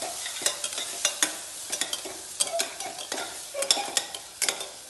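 A spoon stirs potato paneer curry with turmeric and garam masala in a pan, giving a run of sharp scraping clicks over a soft sizzle, irregular and close.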